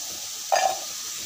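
Pre-boiled cluster beans dropped into a hot pan give a brief, sharp sizzle that flares for a moment and quickly settles into a low hiss against a quiet kitchen background.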